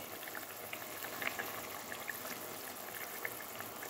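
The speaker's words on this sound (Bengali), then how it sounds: "গ্রেভিটা দেখুন ফুটে উঠেছে।" Chital fish curry gravy with tomato bubbling in a pan, a steady close simmering hiss with scattered small pops and blips, heard alone without talk.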